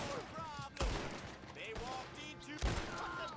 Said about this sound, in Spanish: Me están disparando desde arriba algún gilipolla